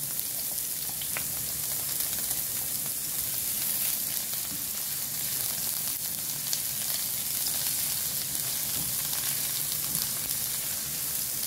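Garlic frying in a hot pan gives a steady, dense sizzle that holds at an even level throughout, with no voices over it.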